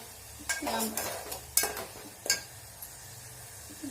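A spatula stirring gram flour zunka in a pan over low heat: a few scraping strokes and metallic clinks over a soft, faint sizzle, with quiet gaps between.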